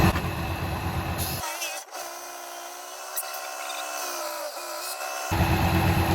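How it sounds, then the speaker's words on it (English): A belt sander grinds steadily along the outside edges of a wooden paddle for a few seconds, a continuous whining hum bracketed by louder broadband workshop noise at the start and end. "The belt is real good for cleaning up your outside edges and making your handle flat"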